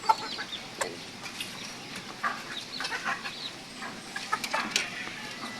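Young pure Serama bantam chickens, around four months old, kept with chicks in a backyard pen, give soft, scattered clucks that come faint and intermittent against a quiet background.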